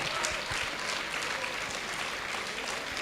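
A graduation-ceremony audience applauds steadily for the teachers, a dense, even wash of clapping with a few cheers that stays constant throughout, with no speech.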